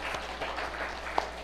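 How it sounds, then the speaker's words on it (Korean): A small audience gives a short round of thankful applause, a loose patter of claps with a few sharper hits, moderately loud and close, with no talk over it. "우리 감사 박수 드리겠습니다."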